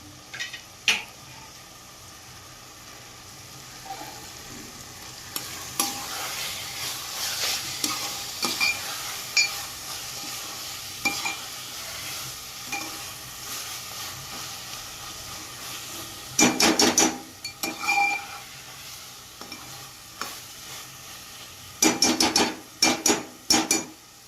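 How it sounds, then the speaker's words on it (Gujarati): A spoon stirs and scrapes eggplant bharta with coriander and green chillies in a hot pan, with irregular clattering strokes over a soft sizzle and louder bursts of scraping near the end. "ઓળો મિક્સ થઈ ગયો છે. હવે ફરીથી ઉપર કોથમીર અને લીલી મૂંગી નાખી દઈએ થોડા"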